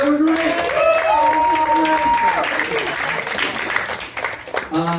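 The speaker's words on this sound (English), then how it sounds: "Guys, give it up for all of them, though." An audience at a live comedy show applauds the performers, with sustained clapping and crowd noise throughout while a voice talks loudly over the top.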